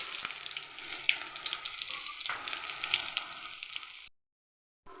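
Mustard seeds, cumin, fenugreek, garlic and onion frying in a few spoons of oil for bisi bele bath: a steady, close, bright sizzle with small pops that stops abruptly before a brief silence.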